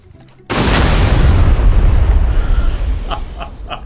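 A C4 charge planted on a motorcycle detonates in the battle royale game PUBG, a sudden loud booming blast that rumbles and rolls for several seconds before trailing off, with faint crackles near the end.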